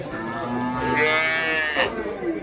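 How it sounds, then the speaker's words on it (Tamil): A native-breed cow, an older cow at a cattle market in Vaniyambadi, moos in a long, drawn-out low call, close and loud, with a second rising bellow near the end. "நம்ம சிவானம் பார்த்தீங்கன்னா ஒரு நாட்டு பசு மாடு கொண்டு வந்திருக்காருங்க"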